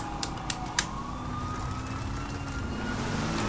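A police car siren wails in the GTA V video game, rising and sweeping steadily for several seconds over engine rumble, with a few sharp clicks early on.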